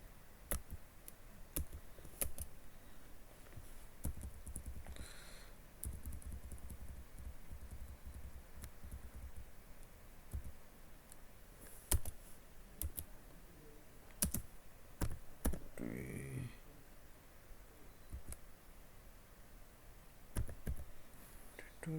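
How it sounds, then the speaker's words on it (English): Keys on a computer keyboard clack in scattered bursts and single taps while a command is entered, quiet and close, with pauses between strokes and brief faint rustles in the background. "I am typing a new command"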